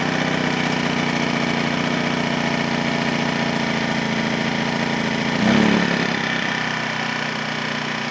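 A Generac 2100i inverter generator runs steadily in economy mode, a close, even mechanical hum that continues alone without speech, with a brief surge in level about two thirds through before settling again.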